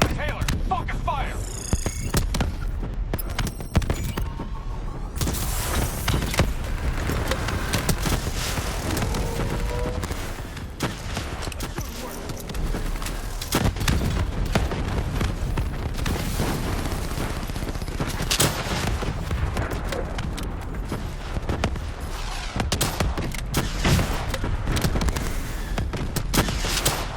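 Sustained gunfire and blasts from a boss fight in Call of Duty: Black Ops 3, dense volleys of shots and booms running almost nonstop, loud and close, with game voices briefly heard beneath.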